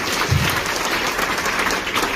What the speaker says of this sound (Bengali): আমি একটা করতালি চাই সবার কাছে